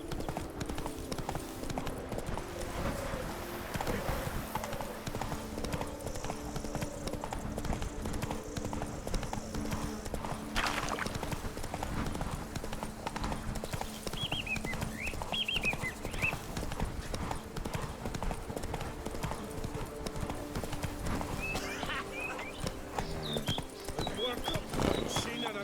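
Hooves of Roach, a horse in The Witcher 3, clip-clop in a steady galloping rhythm throughout, moderately close, while voices talk over the top for much of the time.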